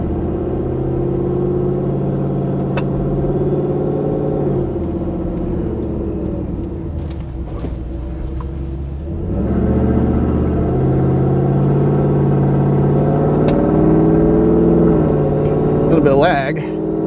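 A 2024 Ford F150 4x4 with a 5.0 V8 drones at a steady idle-like hum, then dips and rises in pitch as the transmission shifts gears, with a voice heard over the engine.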